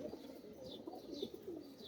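A male pigeon coos softly in a few low, rolling calls, close by with faint background noise and no talking.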